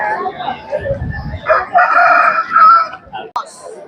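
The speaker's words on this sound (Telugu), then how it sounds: "చూడండి కోడి అయితే మాత్రం చాలా నీట్ గా ఉంది." A fighting rooster at a Sankranti cockfight gathering crows loudly and close, one drawn-out call rising over faint crowd murmur and a brief voice.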